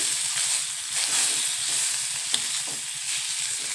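Boiled eggs fry in masala in a pan for egg biryani, giving a steady close sizzle with soft stirring scrapes and one sharp click partway through, with no voices.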